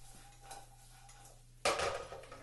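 Stir fry vegetables hitting a hot pan, a quiet low hum giving way to a sudden loud sizzle and scraping of food being tossed, close by.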